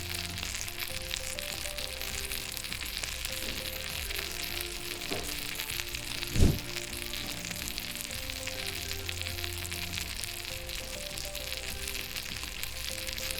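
Fish kebabs frying in hot oil give a steady close sizzle with faint crackles throughout, and one sharp knock of a utensil or pan near the middle.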